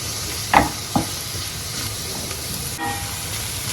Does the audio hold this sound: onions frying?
yes